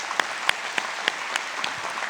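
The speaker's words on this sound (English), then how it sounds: "please give these people a round of applause." A business forum audience claps for the elected officials in the room, with scattered, moderately quiet clapping in which separate sharp claps stand out over a soft wash of background applause.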